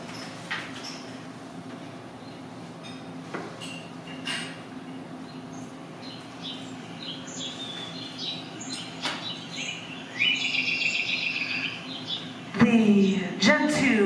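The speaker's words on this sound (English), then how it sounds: "I'm going to give you bird noises anyway for this first piece." Birdsong plays as a background soundscape: scattered chirps and tweets, fairly faint over a steady hum, with brief louder bursts of calls and clatter near the end.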